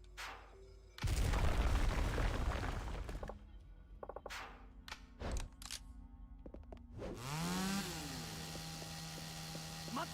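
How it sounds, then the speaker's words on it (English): A chainsaw in the video game Yakuza: Dead Souls, heard after loud crashing booms: its engine sweeps up in pitch, then settles into a steady, buzzing idle drone. "We're gonna just listen to this chainsaw rev for a while."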